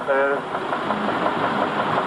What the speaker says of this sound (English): This one, Mr. Garrett from locally in Hinckley, it's a local tractor.